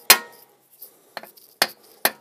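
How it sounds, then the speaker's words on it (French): A hammer taps a car's cardan joint in four sharp metallic strikes, the first loudest, then three more spaced and ringing briefly, close up with no talking. "j'ai pas de maillet, alors je le fais au marteau"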